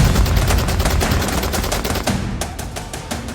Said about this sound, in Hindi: ताबड़तोड़ फायरिंग कर रहे ये लोग हमास के विरोधी लड़ाका ग्रुप हैं।